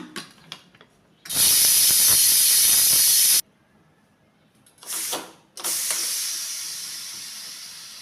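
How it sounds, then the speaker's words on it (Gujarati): A pressure cooker boiling drumsticks (moringa pods) in half a glass of unsalted water lets off steam in a long, loud whistling hiss, falls quiet, then gives a short burst followed by another sustained hissing release. "આ કુકરની અંદર અડધો ગ્લાસ પાણી લીધું છે અને મીઠું નાખ્યા વગર આને 2 સીટી કરી અને બાફી લેવાના છે"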